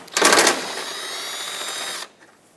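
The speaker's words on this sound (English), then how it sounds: "Now you can use a 10mm socket." A ratchet with a 10mm socket removes a headlight bolt on a 2014-2021 Mazda 6. A single close, steady whir lasts about two seconds and stops abruptly.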